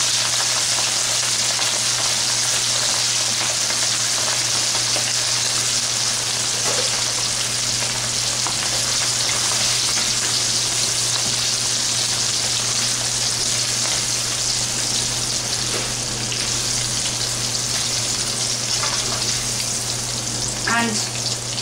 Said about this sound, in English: We must make sure that the heat is not too high so that the shrimp fry evenly.